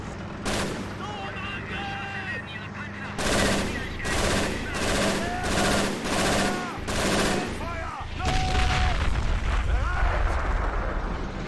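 Tank cannon blasts and rattling small-arms gunfire from a World War II Kursk battle in Men of War: Assault Squad 2, with repeated loud bursts and booms in quick succession, one heavy blast near the end, and voices talking underneath.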